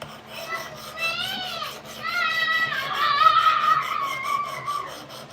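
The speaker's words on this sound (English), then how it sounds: "this is the first time I've actually really sharpened it other than just running on a strop" Knife of CPM Cruwear steel stroked across a sharpening stone, repeated raspy scraping strokes in a steady rhythm, close and moderately quiet.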